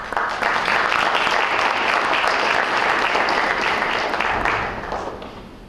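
An audience at a career association evening applauds members' families with sustained, dense clapping that holds steady for several seconds and then tapers off toward the end.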